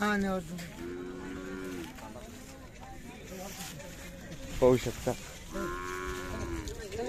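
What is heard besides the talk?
bull cattle mooing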